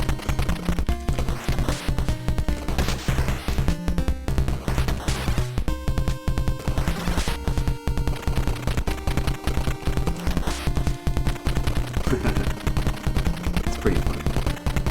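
Powered missiles firing in the NES game Jackal, a rapid, loud stream of sharp retro shots repeating without pause over driving chiptune music.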